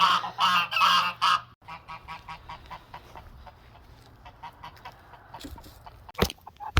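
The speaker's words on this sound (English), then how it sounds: "And I guess our geese are gonna help." Geese honk loudly and repeatedly up close, followed by softer, scattered honks and calls from the flock.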